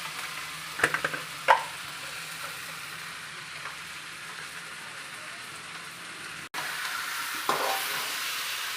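Spices (Maggi masala, meat masala and a little sugar) stirred in a frying pan: a soft continuous sizzle with a few clattering spoon scrapes early on and another later, low-level with no talk.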